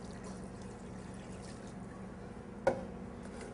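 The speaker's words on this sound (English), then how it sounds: "Into that sauce pot goes the water" Water is poured into a large sauce pot of dates for sticky toffee pudding, a quiet, steady trickling stream followed by a single sharp knock near the end.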